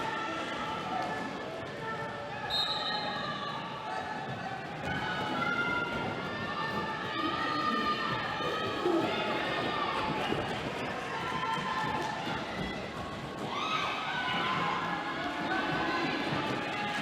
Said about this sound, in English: Everyone seems to be cheering